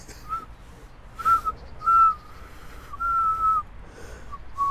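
Someone whistles a few short, breathy, tentative notes that come in separate bursts, with quiet pauses in between.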